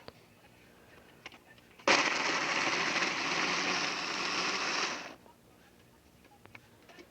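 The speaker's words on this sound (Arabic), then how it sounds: "ونضرب بقى ده كله في الخلاط مع بعض." A blender switches on abruptly, roars loudly for about three seconds while blending a sauce of tomato sauce, vinegar, spices and lemon juice, then cuts off, with quiet background noise before and after.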